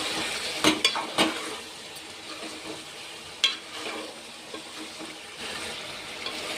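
Chicken fries on low heat in a pan and gets stirred now and then. A soft, steady sizzle runs close by, broken by a few sharp scraping clatters.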